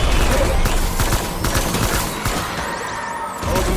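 Rapid bursts of assault rifle fire in Death Stranding, loud and close, with dense repeated shots over a rumbling game background and faint talk underneath.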